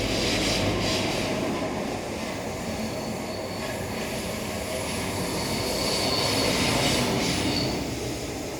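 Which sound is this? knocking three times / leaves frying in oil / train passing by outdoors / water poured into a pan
train passing by outdoors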